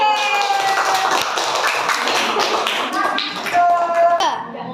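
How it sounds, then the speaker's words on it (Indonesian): Schoolchildren in a primary school classroom clap for a group after its report, a loud, busy patter of many hands with children's voices talking and calling out over it. "Tepuk tangan untuk kelompok C"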